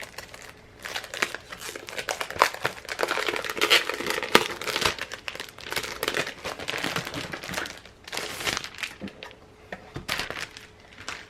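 Sheets of 12 by 12 scrapbooking paper from a collection kit rustle and crinkle close by as they are handled, with a steady run of crisp, irregular paper noises and brief pauses.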